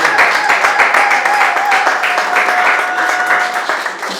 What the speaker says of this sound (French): Est-ce qu'on peut tous acclamer très fort pour la gloire de Dieu?